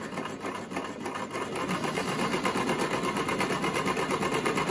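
A Brother XL-5600 sewing machine running a zigzag stitch, a close, steady rapid mechanical whir and clatter that speeds up and grows louder partway through, with no talking.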